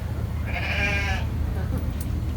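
A sheep bleats once at an agricultural show in Dumfries, a short wavering call close by over a low steady hum of background noise.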